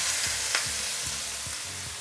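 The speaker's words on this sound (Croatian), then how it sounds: "I tada pržimo meso s jedne i sa druge strane." Venison searing in a very hot cast-iron pan, a steady broadband sizzle with several sharp spatters and stirring scrapes recurring about every half second, close and loud, no voices.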